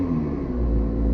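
Deep engine rumble from a McLaren P1 supercar in sport mode, a continuous low drone with a gentle rise in intensity partway through, close and loud, no talking.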